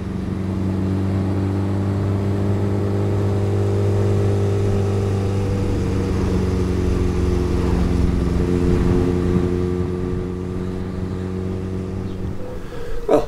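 A rebuilt Honda CB750 cafe racer motorcycle being ridden, its engine droning steadily and close, with pitch shifting as it changes speed and wind noise building toward the end.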